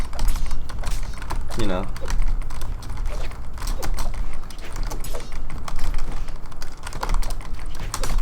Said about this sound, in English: people get mad about my keyboard sounds